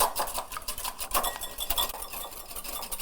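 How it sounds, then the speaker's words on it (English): Egg white, with a little cocoa added, is whisked in a bowl, producing quick rhythmic clinks and swishes of the whisk against the sides at close range. "I'm gonna start by whisking this"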